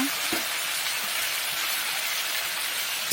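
Shing fish, fried earlier, simmering with tomatoes in a pan for bhuna, a steady loud sizzle with a few soft scrapes of a spatula stirring through it.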